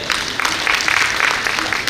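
Audience applause for a ladies' wing at a JITO community appreciation event in Balotra, a steady broadband patter of many hands clapping throughout, fairly loud and continuous with no talk over it.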